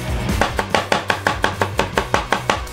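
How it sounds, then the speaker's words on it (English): A knife chops celery rapidly on a cutting board, about a dozen crisp, evenly spaced strikes in quick succession, close and loud. "and dice it up nice"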